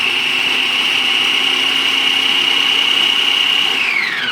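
An electric blender liquefies onion for a homemade gyro loaf, a loud steady motor whine holding one pitch, then dropping as it spins down at the end.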